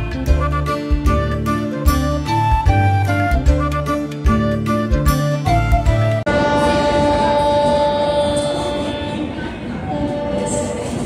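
A passenger train in southern India runs through hilly country toward Salem with a steady, loud rumble and rolling noise, partly mixed with rhythmic music that drops out halfway.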